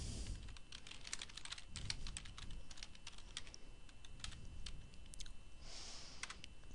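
Keys click quickly on a computer keyboard at close range as text is entered in a Word document, an irregular patter of soft taps over faint room hiss.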